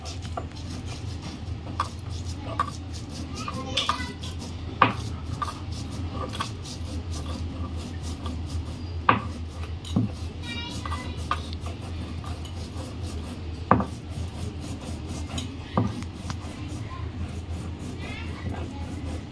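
Chilli, mustard and salt are ground by hand on a grinding stone in a home kitchen. Close, irregular rubbing and scraping comes with occasional sharp knocks, while faint voices and household sounds carry on in the background.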